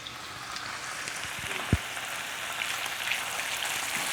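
Meat pieces searing in a hot pan give a soft, steady sizzle with a light crackle, fairly faint and unbroken, marked by one sharp knock partway through.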